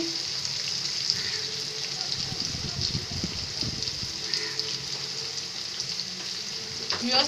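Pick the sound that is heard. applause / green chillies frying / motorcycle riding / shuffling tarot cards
green chillies frying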